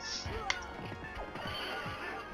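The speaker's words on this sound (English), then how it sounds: "Bloody horses." A horse whinnies amid busy Xbox One X game sounds, with hoof clatter and a sharp crash partway through, all fairly loud and continuous.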